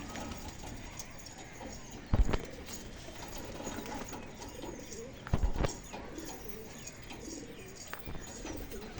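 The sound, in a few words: female pigeon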